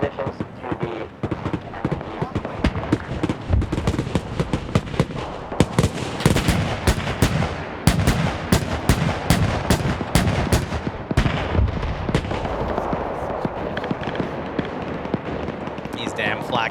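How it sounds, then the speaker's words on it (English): Flak guns fire in a video game in rapid, uneven bursts of sharp reports, loud and close, while a voice talks over the steady rattle. "These damn flak guns."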